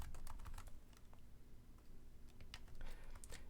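Clicky keystrokes on a laptop keyboard patter in uneven bursts with short pauses, close but fairly quiet, with no talking.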